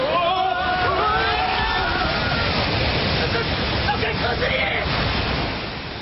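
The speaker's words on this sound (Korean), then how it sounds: "돌개바람이 이쪽으로 몰아치고 있습니다" Strong wind gusts roar over a rough sea, with a loud, continuous wash of rushing air and water that holds steady and eases slightly at the end, while a voice speaks over it.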